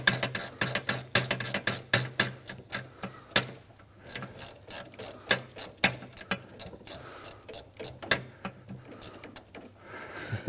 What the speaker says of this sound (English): But then I like to go to my ratchet to speed things up.